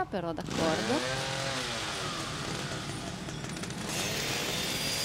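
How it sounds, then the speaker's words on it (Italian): A chainsaw cuts through metal in the video game The Evil Within, a sustained harsh buzzing drone that runs steadily after someone speaks briefly at the start. "non so perché ci vuole la motosega per tagliare questa cosa"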